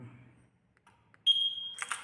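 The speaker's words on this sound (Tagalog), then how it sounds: "Yung kinabit nating alarm," Aftermarket alarm fitted to a Y1S e-bike under test gives a single steady high electronic beep, then a burst of harsh warbling tones, loud and close after a brief quiet pause.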